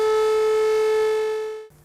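Civil defense warning siren sounding during a test in Naberezhnye Chelny, a single steady held wail that holds its pitch before cutting off abruptly near the end, loud and alone.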